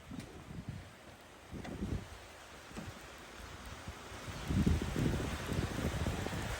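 Rain patters and hisses steadily, with gusts of wind and rustling swelling in bursts, growing heavier toward the end.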